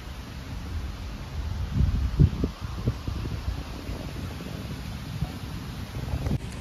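Steady cool breeze rushing past the microphone in a well-kept garden, with low gusty buffeting and faint rustling, a few stronger gusts early on, no voices.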